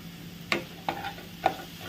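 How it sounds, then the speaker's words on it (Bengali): Paneer and green beans sabzi with tomatoes and Kashmiri chilli powder stirred in a frying pan, giving three distinct scraping spoon strokes over a faint steady sizzle, close and fairly quiet. "এবার এটাকে একটু নাড়াচাড়া করব।"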